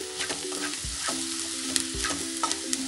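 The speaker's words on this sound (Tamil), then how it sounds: "இப்போ இது எல்லாத்தையுமே வந்து ஈவனாக வந்து கலந்து விட்டுக்குங்க." Spiced egg chilli masala with onions sizzles loudly in a pan, a close, constant frying hiss. A few dull knocks and scrapes of a spoon stirring it through come at intervals.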